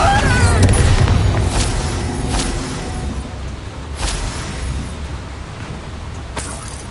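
A Confringo spell explosion in the video game Hogwarts Legacy: a loud boom sits in a dense wash of battle noise, followed by several more sharp impacts and whooshes, with a voice speaking over parts of it.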